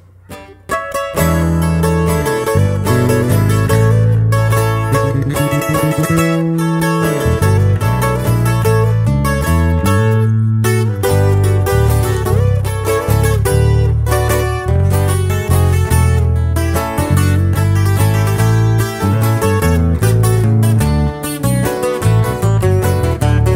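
Live corrido band music, a full, loud and steady ensemble with pulsing bass and strummed rhythm playing continuously, with no talk over it.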